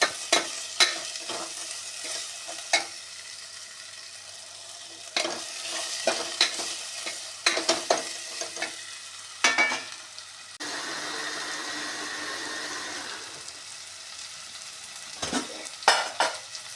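Masala ingredients sizzle in a pan while being fried for patrode masala, with a steady frying hiss under repeated scraping stirs and clinks of a utensil against the pan, close up and with no talking.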